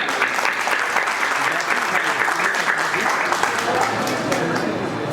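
An audience at a Holi gathering claps loudly and continuously for students who sang a Saraswati Vandana, dense applause filling the whole stretch, with a voice faintly audible beneath.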